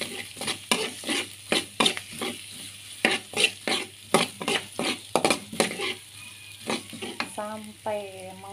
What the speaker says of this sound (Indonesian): Masukkan juga bawang putihnya. Kita tumis sampai harum.